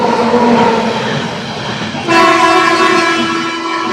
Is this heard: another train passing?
yes